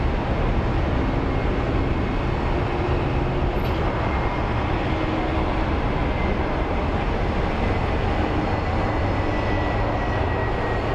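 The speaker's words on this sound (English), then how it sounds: "That is an Airbus Neo, I believe." An Airbus Neo airliner passing at Phoenix Sky Harbor International Airport, a steady loud broadband engine roar that holds constant for the whole stretch without pause.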